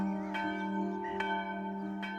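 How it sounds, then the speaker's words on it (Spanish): Church bells tolling in dull, muffled strokes, a few spaced hums ringing on with long sustained tones, fairly faint and alone. "Nunca dejaré de oír los sordos tañidos de aquellas campanas."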